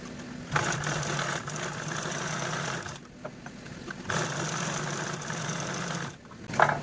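Sewing machine stitching along both sides of a zip on a fabric makeup pouch, running in steady whirring bursts with short pauses between seams, close and clear.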